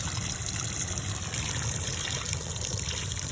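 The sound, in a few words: water from a garden hose splashing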